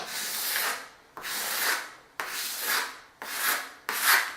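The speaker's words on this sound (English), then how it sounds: "We'll scrape off some of the excess" Putty knife scraping excess plaster off a cracked wall under repair, heard as five long, close rasping strokes in steady succession, each fading before the next starts, with no talking.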